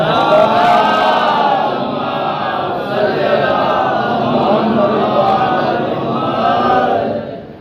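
A large crowd chants slogans together at a Shabbedari religious gathering in Ganganagar, with loud, sustained massed voices rising and falling steadily throughout before tapering at the end.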